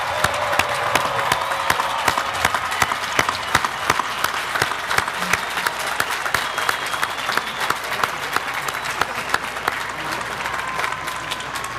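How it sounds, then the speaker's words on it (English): A large audience at a university spring commencement ceremony breaks into sustained, dense applause, many hands clapping steadily and evenly for several seconds in a big reverberant hall, with a faint murmur of crowd noise underneath. "As a group to be recognized with our applause one last time."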